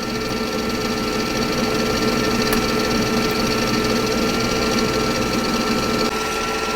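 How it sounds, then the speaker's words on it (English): Electric stand mixer running at its slowest speed while eggs are mixed into pound cake batter: a steady, continuous motor whir with a faint rhythmic beat, close and even throughout. "I'm going to slow the mixer down to about the slowest speed that it has"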